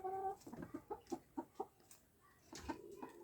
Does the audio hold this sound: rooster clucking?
yes